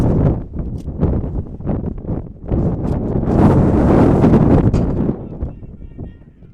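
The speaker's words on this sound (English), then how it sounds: "Whoa, it's windy." Strong wind buffeting the microphone in loud gusts at an outdoor high school football game, a rough roaring rumble that swells in the middle and eases off.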